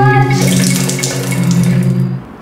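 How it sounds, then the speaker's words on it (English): Water runs from a bathroom faucet left on during tooth brushing, a steady close hiss and splash into the sink that keeps going for a couple of seconds alongside a brief low hum, without talk. "You can waste up to 5 gallons of water when you brush your teeth if you leave the faucet running."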